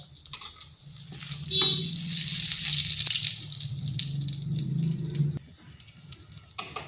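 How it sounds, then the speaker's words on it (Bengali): Eggplant slices, turned to their second side, fry in oil in a pan with a moderate hiss that swells, holds for a few seconds, then fades abruptly. "এক পাশটা হয়ে গেছে, এরপর আর এক পাশটা ভেজে নিচ্ছি।"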